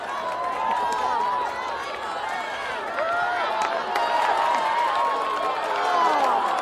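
A baseball crowd cheers steadily for a young batter in the bottom of the ninth with two outs, a dense wash of voices and shouts that holds loud and continuous throughout.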